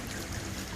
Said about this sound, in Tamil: பாருங்க எவ்வளோ தண்ணி இந்த போதுன்னு ஊற்றுது